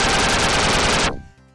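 A dense, loud burst of flintlock pistol fire in Duck Game, continuous crackling shots for about a second that cut off abruptly into a faint residual tail.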